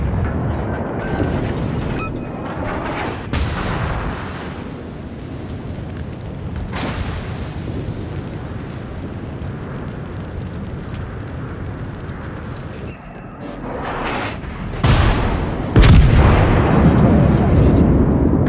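Warship artillery thunders through a World of Warships naval battle: repeated heavy booms and explosive bursts over a constant rumbling battle bed, with sharper blasts near the end and a voice talking at times.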